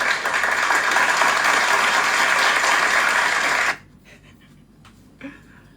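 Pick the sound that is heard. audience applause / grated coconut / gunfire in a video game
audience applause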